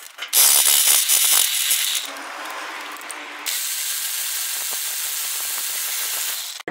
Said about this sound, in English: So now we'll just whiz off all these, and I think they're 8mm.